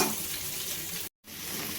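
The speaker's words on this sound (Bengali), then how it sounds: "পেঁয়াজ ক্যাপসিকামগুলো ভালো করে আমি ভেজে নেব।" Onions, capsicum and green chillies sizzle steadily in hot oil for dry chilli chicken, a dense close frying hiss that cuts out briefly to silence before resuming.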